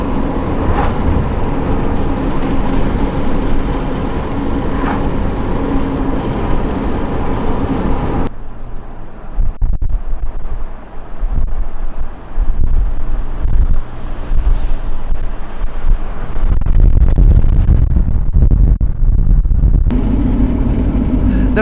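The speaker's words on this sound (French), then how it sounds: "Donc voilà la file de camions avant d'arriver à Peñas Blancas" A line of trucks waits on the road a few kilometres before the Peñas Blancas border crossing, a steady loud engine rumble with shifting idling and passing noise throughout.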